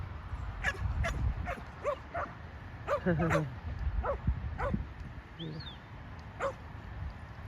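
Several trained dogs bark and yip in short, uneven bursts at moderate distance, with an occasional whimper, while people talk nearby in an outdoor fenced area.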